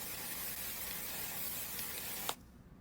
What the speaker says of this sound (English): So now I'm gonna set my face with some One Size setting spray.